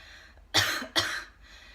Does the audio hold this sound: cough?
yes